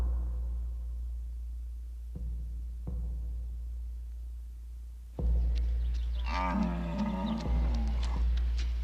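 Back-bred cattle resembling the extinct European aurochs give deep, drawn-out lowing calls, a few soft low thuds early on, then a louder, rough bellowing moo rising near the end over a steady low rumble.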